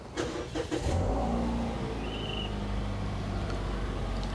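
A 2012 Toyota Yaris S Limited with automatic transmission starts up: a short cranking burst settles into a steady, close idle hum that runs on without a break.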